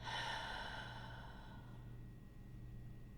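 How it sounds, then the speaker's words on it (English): A deep breath drawn in, briefly held, then let out in a long exhale during a guided healing meditation, close and soft with steady breathy noise that fades gradually, no talking. "Go ahead and take a deep breath in now. Hold it and exhale."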